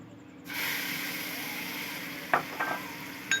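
Two spoonfuls of butter dropped into a hot pan just used for capsicum and onion, bursting into a sudden steady sizzling hiss, with a few sharp utensil clacks near the end.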